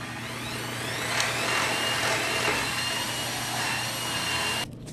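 A power drill bores into wood while building DIY bicycle rollers, a steady loud whirring motor drone running continuously close by before cutting off abruptly near the end.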